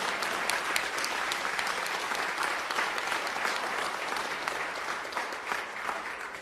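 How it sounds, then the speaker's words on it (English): An audience at a mental health parity act signing gives a hearty round of applause, dense steady clapping from many hands, close and continuous throughout with no break. "she deserves also a very hearty round of applause"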